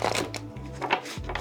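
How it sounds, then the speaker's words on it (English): A new tarot deck is riffle-shuffled by hand. Quick, crisp ripples of flicking cards come in short bursts, close and fairly loud, with no talking. "I don't ordinarily riffle shuffle"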